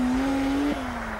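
A Porsche 911 GT3 on studded tyres races across ice, its engine holding a loud sustained tone that slips briefly in pitch, heard close and alone.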